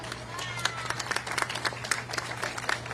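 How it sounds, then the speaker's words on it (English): Applause at a White House press briefing from a modest room of reporters, sparse and uneven claps with individual hand strikes standing out over a low steady hum, moderately loud. "Raucous applause, thank you all."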